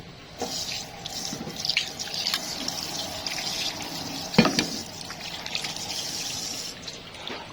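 Tap water runs steadily into a kitchen sink while food is washed during preparation of Thai tilapia soup, a continuous close trickle and splash with occasional knocks and clatter of items in the basin.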